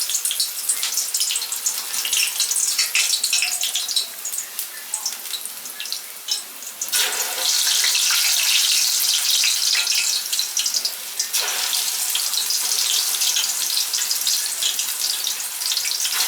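Banana slices fry in hot oil over a high gas flame, a loud, dense, continuous sizzle and crackle that surges and steadies, heard up close.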